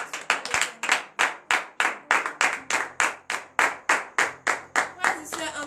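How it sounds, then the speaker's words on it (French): Rhythmic group clapping at a church morning prayer gathering in Benin, about three claps per second in sharp, even bursts, loud and close, with faint voices near the end. "Donnez de vives acclamations."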